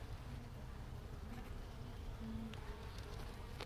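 Honeybees swarming around an open hive during an inspection, a dense steady buzz of many insects that is fairly faint and continuous throughout.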